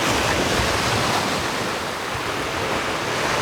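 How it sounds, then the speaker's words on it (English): Loud ocean waves breaking on a shore, a continuous roaring wash of surf with wind buffeting the microphone, close and unbroken. "It's amazing how loud the waves are."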